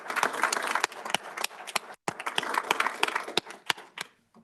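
A modest audience at a school board meeting claps for a top-ranking high school graduate, sparse distinct hand claps in an uneven rhythm with a brief gap midway, trailing off at the end.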